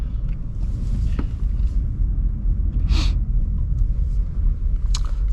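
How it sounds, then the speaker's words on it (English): A 2023 Acura Integra A-Spec drives along La Honda Road, giving a steady low road and engine rumble with wind noise, heard close from inside the car and alone. "But that is the 2023 Acura Integra on La Honda Road."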